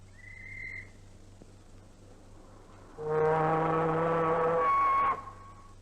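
A ship's whistle signal to escorting tugs at a Mersey dock entrance lock in 1955 blows a loud, steady, harmonically rich blast of about two seconds, preceded by a faint brief whistle tone and low engine hum.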